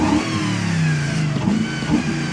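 A 2004 Jeep Grand Cherokee 4.7 V8 engine starts and revs up close, its deep roar swelling and dipping in a continuous, throaty growl.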